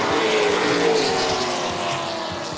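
Late model race cars roar away at the green flag, their engines a loud, dense, sustained drone from the pack, which thins slightly as the field moves off.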